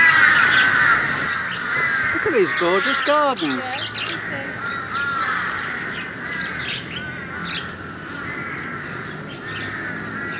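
Crows in a Bangkok park, a flock cawing and squawking loudly and repeatedly close by, while someone talks over the calls.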